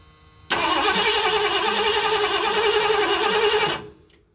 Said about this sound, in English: we're gonna turn this thing over and see if we get any fuel pumping